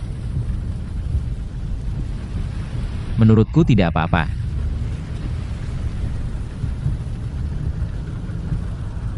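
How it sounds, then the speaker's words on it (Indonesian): Steady rain falls with a low rumbling undertone throughout, while a short spoken phrase interrupts briefly in the middle. "Hujan turun."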